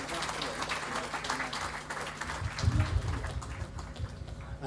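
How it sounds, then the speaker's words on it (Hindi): Scattered clapping from an audience at a celebration event continues throughout, dense and fairly steady, with a voice speaking in Hindi over it at moderate distance. "इनके लिए ज़ोरदार तालियों से स्वागत कर दिए"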